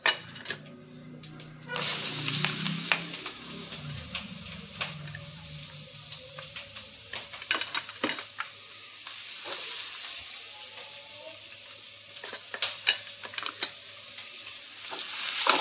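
Onions frying in a pan give off a steady, close sizzle after a quiet first two seconds, with scattered clicks and scrapes of stirring throughout.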